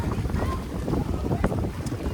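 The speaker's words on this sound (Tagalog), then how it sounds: "May hangin eh." Gusty wind buffets the microphone with low rumbling noise throughout, close and steady, aboard a round basket boat in Vietnam, with faint indistinct voices underneath.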